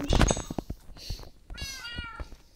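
Cats in the video game Minecraft meow several times, short bright electronic-sounding mews close and clear, with clicks and game noise between them.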